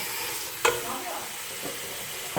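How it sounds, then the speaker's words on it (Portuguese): Pork ribs brown in a hot pan, a steady close sizzle broken by a sharp clatter and a few quieter knocks as the pieces are turned. "Nós vamos dourando aqui, ó, só para vocês acompanharem."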